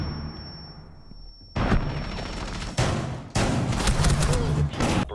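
In Rainbow Six Siege, a flashbang grenade goes off with a loud bang, followed by bursts of close gunfire in several separate volleys, heavy and sustained.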